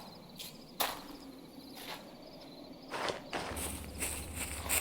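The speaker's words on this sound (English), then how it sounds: "Soon after, we heard footsteps again and decided to stay hidden." Footsteps in the Minecraft video game, a few sparse, soft steps spaced irregularly against a faint ambient background, with no talking.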